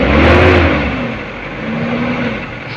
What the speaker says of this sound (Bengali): দেখেন এক্সিলেটরের চাপ দিলে কি হয় পার্কিং অবস্থায়